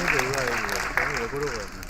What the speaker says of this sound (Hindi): तो उन सभी के लिए, इन सभी तीर्थ यात्रियों के लिए एक बार जोरदार तालियां